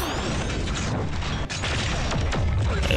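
Rapid gunfire strikes a gate in the fighting game Transformers: Forged to Fight, a dense, continuous barrage of booming impacts and metallic crashes that stays loud throughout.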